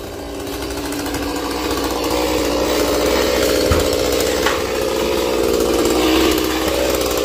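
Chainsaw left running at idle beside a row of king palm trees being felled in southern Vietnam, a steady, close mechanical rattle and hum that continues without a break.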